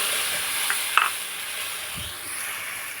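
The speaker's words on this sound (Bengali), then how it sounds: "এখানে আমি তেঁতুলের জলটা দিয়ে দিচ্ছি।" Tamarind water poured into a hot tempering of fried mustard seeds and chilli sets off a steady loud sizzle with a sharp splash-like burst, the frying hiss continuing evenly with no talking.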